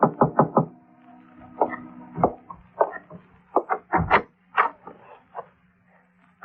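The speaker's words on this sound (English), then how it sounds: "At 7:45, there was a knock on my door." A knock on a door in a radio drama comes as a quick series of sharp wooden raps, then further scattered knocks and rustling thumps, close and fairly loud with no talking.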